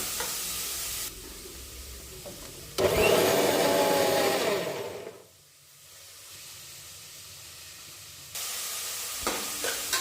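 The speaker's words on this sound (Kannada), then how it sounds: "ಸಾಂಬಾರಿಗೆ ಬೇಕಾಗಿರೋಂತಹ ಮಸಾಲೆನ ರುಬ್ಕೊಂಡು ಬಂದ್ಬಿಡೋಣ" A mixer grinder whirs as it grinds sambar masala, running in loud bursts with a rising whine, cutting out to near silence midway, then starting again; close and without voices.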